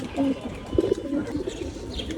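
Mushaldom pigeons coo in soft, low, repeated murmurs close by, with faint chirps mixed in as people talk over them.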